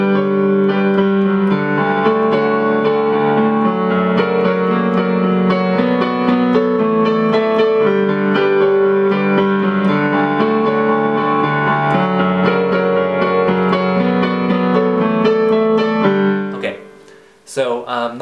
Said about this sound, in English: to play it on the piano, it sounds like this.